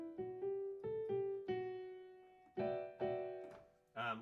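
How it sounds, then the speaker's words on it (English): A Lydian scale rises note by note as separate plucked or struck pitches with clear harmonics, each tone ringing and fading before the next, quiet and isolated. "they'll raise this 4th scale degree up and make a Lydian scale"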